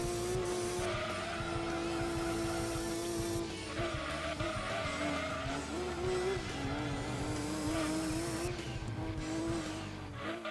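A race car in the video game Gran Turismo 2 roars steadily at high revs with gear-change shifts, tire squeal and skidding, a continuous, fairly quiet engine drone with no talk.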